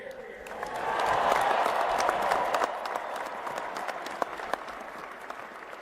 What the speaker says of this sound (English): Let's give that a big cheer.